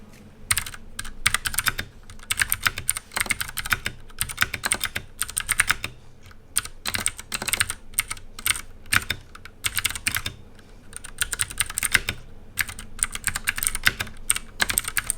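Rapid clacking of keys on a Ducky One 2 Mini 60% mechanical keyboard with Cherry MX Blue switches, continuous typing in bursts with brief pauses, close and crisp, no voices.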